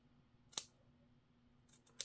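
Scissors snip into the fabric seam allowance at a skirt waist, giving one crisp cut and then two quick ones close together near the end, quiet and close up, with no talking.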